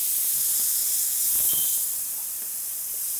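Spiced lamb burgers sizzle steadily in a hot pan just after being flipped, a soft continuous hiss with faint pops and crackles, fairly quiet and without voices.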